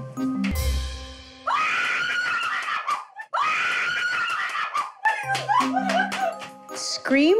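A woman screams loudly during a prank on a Filipino TV show, with shrill, rising cries in several long bursts, broken by brief pauses, and other voices and a laugh mixed in near the close.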